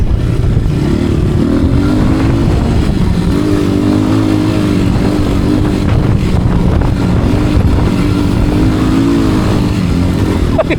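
Motorcycle engine labouring steadily while climbing uphill on Mt. Corona, loud and close with wind buffeting, pitch wavering as the throttle shifts.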